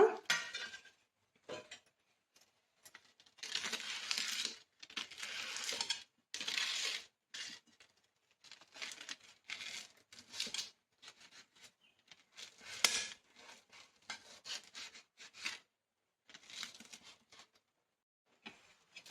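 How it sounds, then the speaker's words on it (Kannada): Butter-fried buns cut into small pieces give irregular bursts of knife scraping and tapping against a board or plate, with short quiet gaps between strokes, close and fairly soft. "ಇದನ್ನ ಇವಾಗ ಚಿಕ್ಕ ಚಿಕ್ಕದಾಗಿ ಕಟ್ ಮಾಡ್ಕೊಳ್ಳೋಣ."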